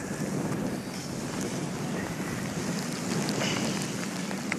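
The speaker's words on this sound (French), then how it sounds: "Il y a un peu de vent" Wind blows steadily across a rocky, wet Patagonian landscape, a dense continuous roar that buffets the microphone throughout without pause or voices.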